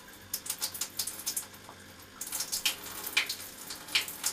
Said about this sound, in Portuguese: E a água cai na cabeça dela.